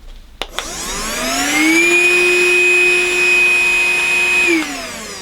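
A PrettyCare W100 cordless vacuum switches on after a click, its motor whine climbing and then holding a loud, steady pitch at maximum suction for several seconds before spinning down. No one speaks over it.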